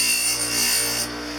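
Steady abrasive grinding of a thumb partial denture being trimmed with a rotary tool, a continuous near whine with a high hiss that eases slightly toward the end, no talk.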